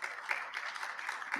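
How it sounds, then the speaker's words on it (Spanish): Audience applause for Dr. Lourdes after her lecture at an international forum on artificial intelligence and human rights: a steady, fairly soft wash of clapping from a hall that holds evenly for the whole short stretch. "un aplauso para la doctora Lourdes"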